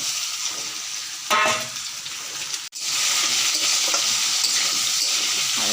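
Fried onion and boiled taro (mukhi kochu) are stirred in hot oil, giving a steady close sizzle with scraping spoon strokes and a brief sharp gap near the middle before the frying hiss resumes.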